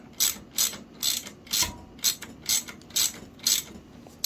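Socket ratchet tightening brake bolts on a touring bicycle, close and loud, clicking in a steady rhythm of about nine even strokes, alone without talk.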